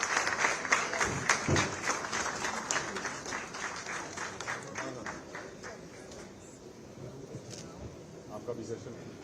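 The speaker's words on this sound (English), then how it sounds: "Can we see him off with a generous round of applause" An audience at an awards ceremony gives a round of applause, distinct claps at first that thin and fade over several seconds while voices murmur and talk carries on beneath.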